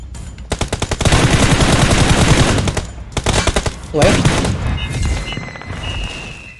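Rapid bursts of automatic gunfire in PUBG Mobile, loud and close, with staccato volleys broken by short pauses and a little talk.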